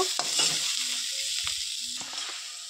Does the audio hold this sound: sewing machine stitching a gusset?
no